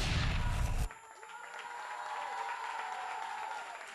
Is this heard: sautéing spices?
no